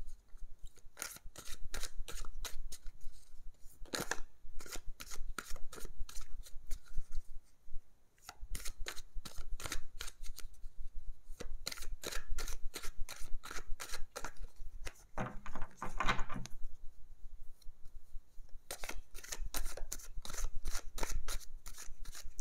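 A deck of tarot cards is shuffled and handled in a quiet room, producing a steady run of crisp, rapid card riffles and flicks, close and fairly soft, with short pauses between runs.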